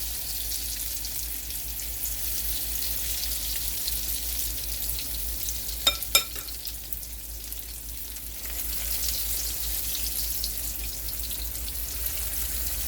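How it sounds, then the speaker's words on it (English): Salmon fritters fry in oil with steady, even hissing and crackling throughout, with a couple of brief sharp clinks partway through and no voices. "I'm going to be frying for a little while, as they say."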